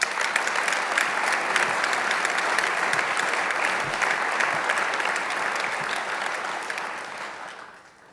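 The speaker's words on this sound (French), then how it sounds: "Là, vous pouvez vraiment les applaudir." A dense crowd at a 2018 New Year greetings ceremony in Le Perreux-sur-Marne claps loudly and evenly, the applause tapering off at the end.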